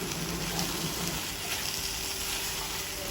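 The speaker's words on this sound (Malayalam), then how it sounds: "ഇനി ഇത് നല്ലതുപോലെ വഴറ്റിയെടുക്കണം." Large tomatoes sautéing in a pan for butter paneer masala, giving a steady, close sizzling hiss with faint bubbling throughout and no voice.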